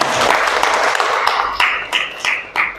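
Classroom applause for a student named Rina, a dense burst of many hands clapping that thins into a few scattered, separate claps toward the end.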